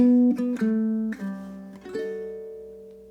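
A ukulele plays the closing measure of a song, a handful of plucked notes stepping down in a short walk, each ringing clearly and decaying, played alone and close.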